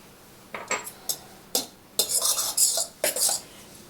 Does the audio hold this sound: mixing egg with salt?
yes